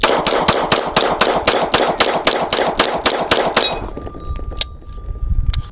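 A PSA Compact Dagger pistol, a Glock-style handgun, emptied in a rapid mag dump: about fifteen loud, evenly spaced shots in quick succession, then the slide locks open and the clip goes quiet with faint handling noise.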